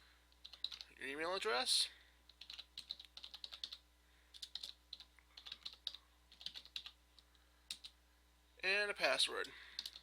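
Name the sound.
typing name, email and password on a computer keyboard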